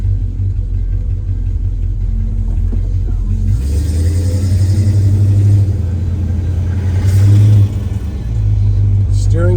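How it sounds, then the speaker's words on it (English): From inside a 1971 Chevrolet Chevelle, a big truck rumbles past with a deep, steady drone that swells and then eases, heavy low roar dominating while the car's own engine hums underneath. "Let this big truck go by."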